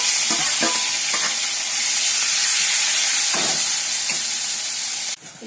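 A paste of onion, green chili and curry leaf sizzles loudly and steadily in hot oil, with a few stirring scrapes along the way, until the sound cuts off sharply near the end.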